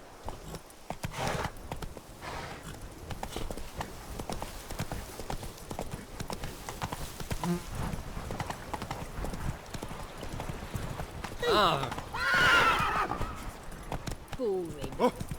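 Roach the horse running in The Witcher 3, steady clip-clop hoofbeats up close with a whinny or neigh near the end and talk in the background.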